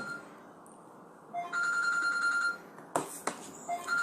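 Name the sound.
telephone ringing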